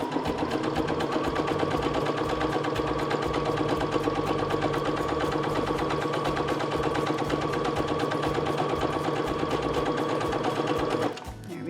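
A Baby Lock Jubilant sewing machine stitching a row of fabric along the presser foot edge, a steady rapid mechanical whir running close and loud, then cutting off abruptly near the end.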